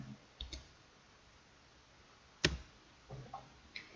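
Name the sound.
typing a number on a computer keyboard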